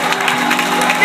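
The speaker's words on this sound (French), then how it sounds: "Applaudissez pour eux." A congregation applauds in a brief, continuous wash of clapping at moderate loudness, with a voice carrying over the crowd.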